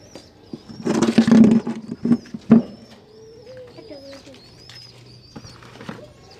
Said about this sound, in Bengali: এই যে আমার কবুতর তুলি